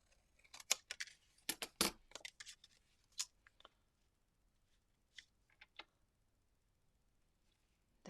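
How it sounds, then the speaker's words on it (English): Scissors or a trimmer snipping through card along a line during papercraft, a quick cluster of sharp crisp snips near the mic, then a pause and a few more isolated clicks, quiet room otherwise. "I'm just going to use a pair of scissors or a trimmer just to cut that line there."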